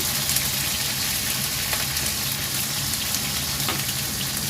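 Onion frying in a pan, heard as a dense, continuous sizzle with a few faint clicks, close and steady throughout with no talking.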